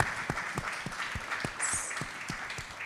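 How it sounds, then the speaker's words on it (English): Audience at a creator event applauding a panel at the end of a session; soft, distant, sparse claps spread evenly through a quiet room, with a brief high whistle or squeal midway. "I think we can give them all a big round of applause."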